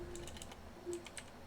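Soft, quick typing on a computer keyboard, a short run of light key clicks close by with a brief pause in the middle, no voices.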